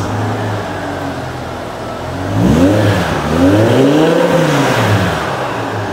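A 2006 BMW M5 engine idles, then revs up in a couple of rising and falling sweeps before settling back, heard from outside the car, close by and fairly loud.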